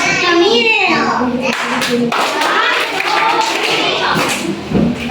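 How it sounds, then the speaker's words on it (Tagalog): Three rounds of rhythmic group clapping in a classroom music demonstration, loud and close, with children's voices and talk mixed over the claps throughout. "Bigyan natin ng tatlong palakpak si Ate Camille"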